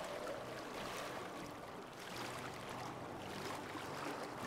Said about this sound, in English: And fill this side with water.